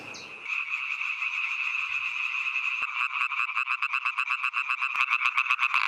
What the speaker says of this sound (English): The croak of the European treefrog signals that summer approaches